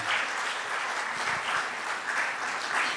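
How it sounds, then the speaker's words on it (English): Sustained audience applause at a trade conclave in Mumbai, steady dense clapping from a sizeable crowd that swells and eases slightly throughout, with no talking over it. "Big round of applause for Dr. Masina."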